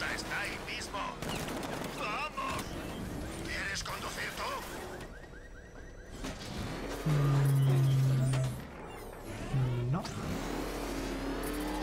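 Batmobile engine revving in Batman Arkham Knight, the video game, surging in loud bursts amid rapid gunfire and other game effects, with a voice talking over parts of it.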